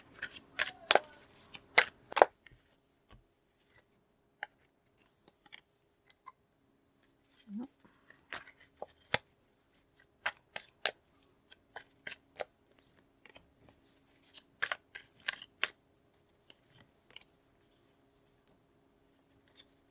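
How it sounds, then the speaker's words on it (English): Tarot cards being shuffled and drawn during a reading, heard as scattered dry, papery clicks and riffles in bursts, with a soft voice talking now and then over a quiet background. "I'm going to pull more cards to go with that."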